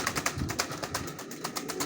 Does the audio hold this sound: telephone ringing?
no